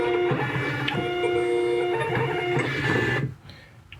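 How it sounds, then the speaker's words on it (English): A shipping-label printer runs steadily for about three seconds with a mechanical hum and whirring tones, then stops abruptly, leaving a quiet room. "It's sending it to our printer."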